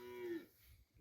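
A water buffalo gives a single short, low moo, faint and fairly distant, as the animals are led to a canal in a Punjab village.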